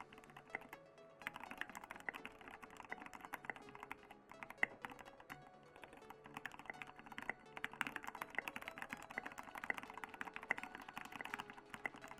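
Mechanical keyboard with tall SA-profile keycaps typing, fast continuous keystrokes with a hollow, slightly resonant clack, close up and fairly quiet.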